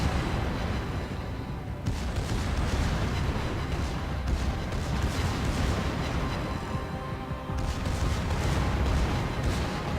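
Secondary guns firing from the Conqueror battleship in World of Warships, a dense, continuous barrage of booming shots and rumbling explosions with no let-up, loud and close, swelling in two heavier bursts.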